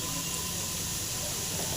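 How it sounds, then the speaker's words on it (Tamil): Radish frying in a pan, a steady loud hiss and sizzle filling the whole moment with no break. "நல்லா ஃப்ரை பண்ணிக்கலாங்க. நல்லா ஃப்ரை ஆகட்டும்."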